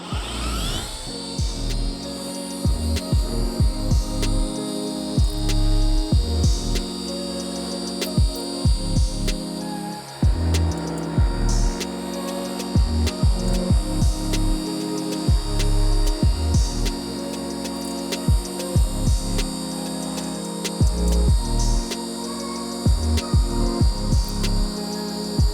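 A car paint polishing machine runs with its pad held flat under pressure at about 60–70% speed, a steady motor hum with rhythmic low thumps and clicks repeating throughout, close and continuous.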